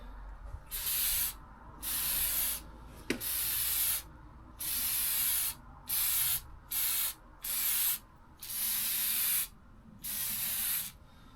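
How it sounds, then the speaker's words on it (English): Repeated bursts of aerosol spray coating hissing close up over JB Weld on an aluminum boat, about nine presses of varying length separated by short pauses, with no talking. "So I'm just going to spray over the JB weld."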